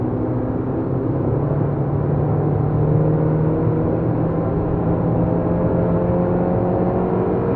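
Peugeot 206 S16 on a race track accelerating out of a corner, a steady loud engine drone held close throughout with no talk.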